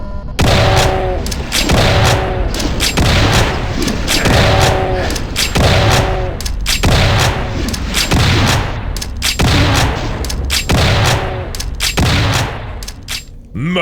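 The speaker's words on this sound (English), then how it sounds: "An excellent fight to showcase how tight the shots from the alternate fire of this rifle are." Rifle alternate fire in a Doom map video game: a loud, evenly spaced series of heavy booming shots, roughly one per second and followed by echoing impacts, with no talk.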